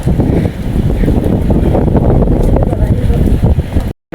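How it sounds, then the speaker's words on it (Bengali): Strong wind in stormy rainy weather buffets the microphone with loud, continuous gusty roaring for several seconds before cutting off abruptly. "প্রচুর বাতাস।"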